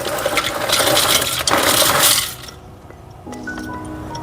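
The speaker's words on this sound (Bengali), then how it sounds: "জলটা গরম হয়ে গেছে, এবার আমি দিয়ে দিই পাস্তাগুলো।" Dried pasta goes into a pot of hot water on the stove: a loud, rushing splash and gush for about two seconds, then quieter bubbling with a few light clinks.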